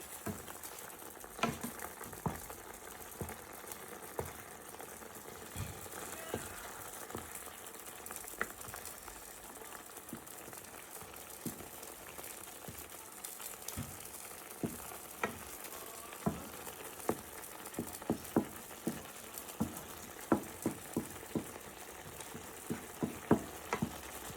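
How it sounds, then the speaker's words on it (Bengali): Prawn curry being stirred in a pan: soft bubbling and sizzling with a steady patter, punctuated by scattered scrapes and knocks of the spoon that grow denser toward the end, no voices. "এবার আমি তরকারিটা নেড়ে দেবো ভালো করে।"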